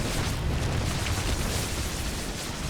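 Rapid missile fire from Terran missile turrets in a StarCraft II match, a dense continuous roar of launches and blasts with heavy low rumble, loud and sustained with no pauses.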